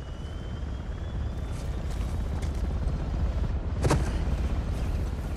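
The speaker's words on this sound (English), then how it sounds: "Oh, great. The chopper's there." A helicopter in Uncharted: The Lost Legacy holds a steady, loud rotor drone throughout, amid dense game noise with a brief sharper burst partway through.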